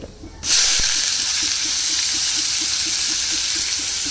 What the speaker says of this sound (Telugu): ఆయిల్ కాగింది, ఆవాలు, జీలకర్ర వేసేసినాం